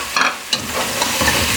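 Whole spices hit hot oil with onion and garlic for chicken yakhni pulao, a loud close sizzle with stirring scrapes, frying steadily throughout.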